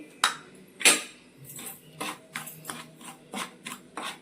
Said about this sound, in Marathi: 1 वाटी रवा मी आता भाजून घेते